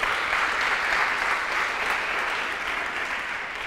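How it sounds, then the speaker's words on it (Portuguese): A church congregation applauds together in a steady, dense wash of clapping that holds evenly loud from start to finish. "Dá um aplauso aí, pelo amor de Deus"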